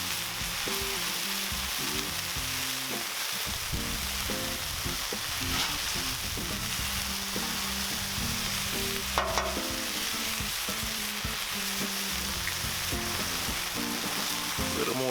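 Smashed burger patties sizzle and fry steadily on a Cuisinart 360° griddle, a constant crackling hiss broken by a few scrapes and clinks of a spatula.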